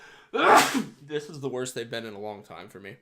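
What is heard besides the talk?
sneeze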